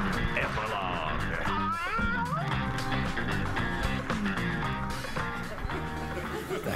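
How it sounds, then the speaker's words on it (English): A cat meows during a late-night TV talk show segment, its voice rising and bending over dense music and talk, steady and fairly loud throughout. "It's just a cat."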